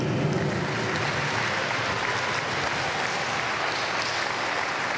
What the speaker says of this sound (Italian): Un grande applauso ad Ansel Perilli.